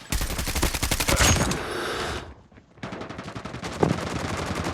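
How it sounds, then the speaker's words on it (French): Rapid automatic gunfire in the mobile shooter game Call of Duty Mobile, one dense burst of shots, a brief gap, then another sustained burst of fire. "Quelqu'un me tire dessus."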